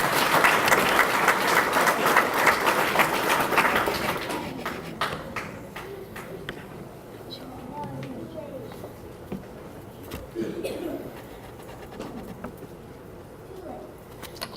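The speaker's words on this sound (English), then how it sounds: "Give Brooklyn a round of applause, please." Applause from a banquet audience honoring a scholar, dense clapping for several seconds that thins out and fades, with scattered claps and murmuring voices afterward.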